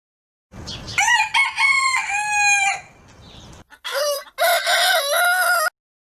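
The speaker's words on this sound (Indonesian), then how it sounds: "suara ayam yang berkokok" A rooster crows loudly and close by, two drawn-out cock-a-doodle-doo calls separated by a brief pause, with a few clucks between.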